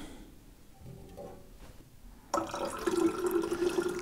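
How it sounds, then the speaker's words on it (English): Melted snow water pours from a pot into a bottle at an off-grid cabin in subzero Alaska, a quiet start giving way to a steady, close gurgling fill that grows louder and more resonant as the bottle fills. "So I'm gonna pour a bunch of this off, probably half of that off into the bottle,"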